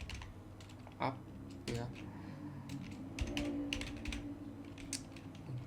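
Keys tapped on a computer keyboard while a command is entered at a Windows Command Prompt, with irregular clicks and a few sharper strikes under a speaking voice.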